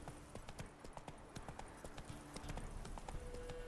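Roach the horse galloping in The Witcher 3, a steady run of close, loud hoof clip-clops over ambient game sound, with a brief tone near the end.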